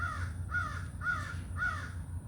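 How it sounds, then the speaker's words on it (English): A crow caws four times in an even rhythm, each harsh call clear but somewhat distant, with a low background hum and no talking. "if you can hear that crow in the background"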